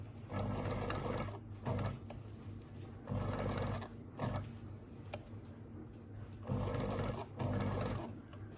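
A sewing machine runs straight stitches around a circle in five or so brisk bursts of rapid mechanical chattering, separated by short pauses while the fabric is lifted and turned.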